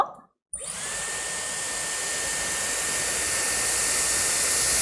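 A Dyson Airwrap hair styler switches on after a brief silence and runs as a steady, loud airy whoosh with a thin high whine held throughout.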